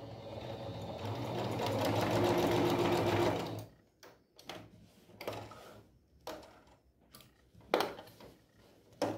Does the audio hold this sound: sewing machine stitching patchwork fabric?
yes